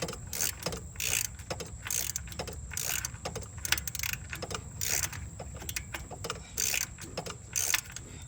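Ratchet work loosening a plug on a 1986 Chevy Cavalier 2 L four-cylinder engine: repeated quick metallic clicking bursts in an uneven rhythm, close up, with light rattling between strokes.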